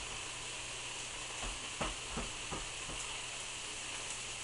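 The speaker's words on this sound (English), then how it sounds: "I'm doing the straight up salt and pepper fried pork chops today" Salt and pepper pork chops fry in a pan with a soft, even hiss of hot fat, a few light taps and pops rising briefly near the middle.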